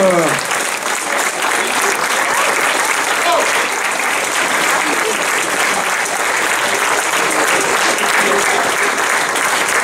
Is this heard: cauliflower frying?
no